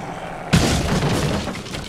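A door booms open under a kick in Resident Evil, one sudden heavy impact that gives way to a rumbling, crackling wash of noise that fades out.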